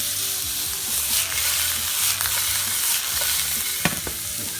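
Meatballs for spaghetti and meatballs browning in a greasy pan, a steady close sizzle and fry with a few soft stirring scrapes and light clicks, no voices.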